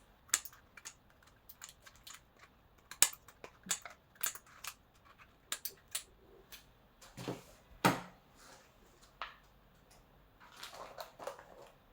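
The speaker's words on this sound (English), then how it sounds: "So you can use a scissor," Scissors snip through a cardboard tofu box in a kitchen, a series of sharp irregular cuts and crinkles, close and fairly quiet, with short pauses between bursts.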